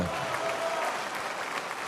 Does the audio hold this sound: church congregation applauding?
yes